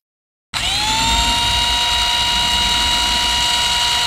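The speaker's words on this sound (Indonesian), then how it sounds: "Kita akan langsung uji M12 Fuel FID 20." Milwaukee M12 Fuel FID2 cordless impact driver spinning freely at variable speed, a steady loud high-pitched motor whine starting abruptly and holding constant without impacting.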